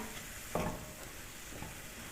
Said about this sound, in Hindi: चीज़ों को अच्छी तरह भून लेना।